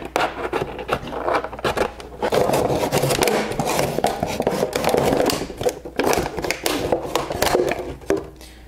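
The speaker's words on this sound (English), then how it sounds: "So I cut my container in half, give it some drainage holes." Plastic container being cut in half to make a plant pot for growing baby bok choy, giving a steady close scraping and rasping for most of the stretch, swelling in the middle and easing toward the end.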